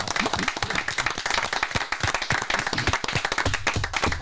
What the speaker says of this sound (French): faire un petit clin d'œil à Thierry Garcia, que je vous demande d'applaudir, quand même s'il n'est pas là ce soir.